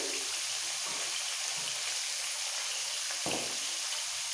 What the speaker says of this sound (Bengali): এই সবজিগুলো যেহেতু একটু শক্ত আগে ভেজে নিচ্ছি ভালো করে